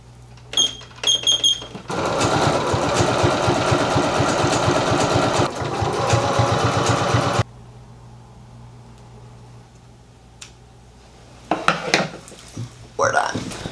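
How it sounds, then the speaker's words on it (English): A sewing machine runs in a loud, steady burst for several seconds while stitching a small logo onto a hoodie, then stops; brief clatter and handling noises come before and after. "Now all I have to do is sew my little logo on"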